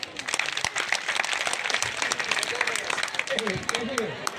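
Audience applause at a Hindi poetry gathering held during a temple consecration festival: steady, crowded clapping across the whole stretch, with a voice rising over it near the end.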